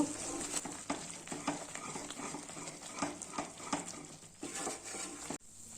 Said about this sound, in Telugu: ఆయిల్ అంతా పోసాక రెండు మూడు నిమిషాలు ఇలా కలుపుతూ ఉడికించుకుంటే చాలు